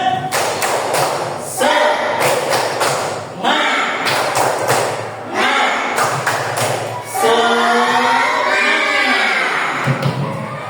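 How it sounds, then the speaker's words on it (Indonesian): A school class performs rhythmic spirit clapping, with loud bursts of group claps in patterned sets alternating with children's voices chanting along, ending in a sustained shouted chant. "Atau coba tepuk semangat."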